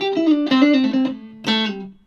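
Clean electric guitar notes ring out through a Marshall G30R CD amp, a short phrase followed by a sustained chord, with a reverb tail trailing off.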